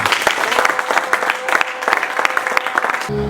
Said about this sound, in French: On acclame très fort pour notre Dieu.